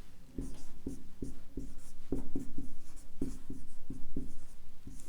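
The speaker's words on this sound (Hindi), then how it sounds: "मैं एक शब्द लिख रहा हूं" A word being written by hand, pen or chalk strokes tapping and scratching in a quick uneven rhythm, close and fairly loud, with no voice over it.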